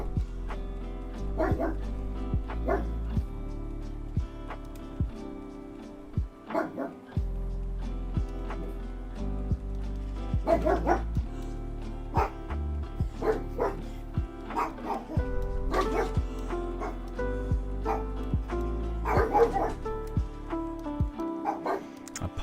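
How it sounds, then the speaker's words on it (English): Several dogs bark repeatedly at a crow, bursts of barking and yips scattered through a long stretch, set under steady background music. "The dogs are currently in an argument with a crow."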